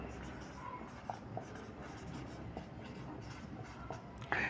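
Handwriting during a molecular orbital chemistry lecture: soft, steady pen or chalk scratching with a few small taps, faint and continuous throughout, with no voice over it.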